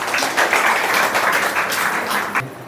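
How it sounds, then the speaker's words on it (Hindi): An audience claps steadily to welcome a guest at a memorial tribute programme, a brief dense patter of many hands that tails off at the end. "उनका भी जोरदार तालियों से स्वागत किया जाए"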